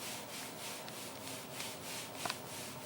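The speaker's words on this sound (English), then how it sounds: "you can lightly hit this with some sandpaper or just a damp sponge to take off any high spots" Quiet rhythmic rubbing strokes sand dried drywall compound with sandpaper or a damp sponge, a soft steady scratching with no talk.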